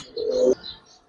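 A single soft, low coo from a Gribaz coloring pigeon, brief and close, with faint chirps behind it in an otherwise quiet setting.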